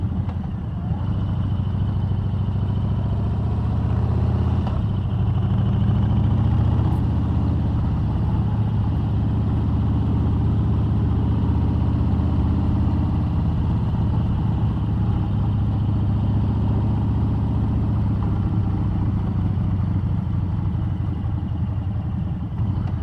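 2018 Harley-Davidson Street Bob with a 107 cubic inch (1780 cc) engine on the road, a deep steady rumble with wind noise, continuous and moderately loud throughout.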